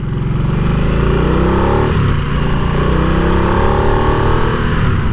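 A Harley-Davidson Nightster motorcycle engine pulls hard and loud from up close, its throaty drone climbing steadily in pitch with a brief dip around a gear change, continuous for several seconds with no talking.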